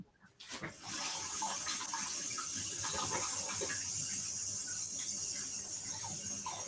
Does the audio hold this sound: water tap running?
yes